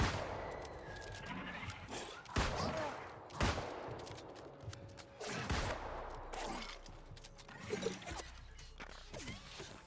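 Weapon hip-fired in the game New World, sharp gunshots cracking out irregularly, several loud reports spread across the span over a busy background with some voice.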